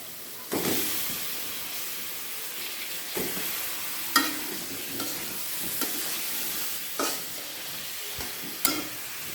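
Eggplant fries in a pan of cooked-down spices beside a dish of shrimp heads, a continuous soft sizzle and hiss broken by repeated scraping stirs every second or two, with no talk.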